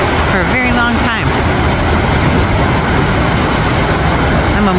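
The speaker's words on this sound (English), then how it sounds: "To get the train going over the bridge." A train rolls steadily over a trestle bridge in Alaska, a loud continuous rumble and rattle throughout, with brief speech near the start.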